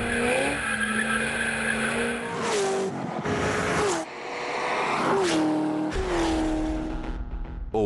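Corvette ZR1 sports car with a 638-horsepower engine accelerating hard, its revving engine note climbing and dropping in repeated bursts while tires squeal loudly, with no talk over it.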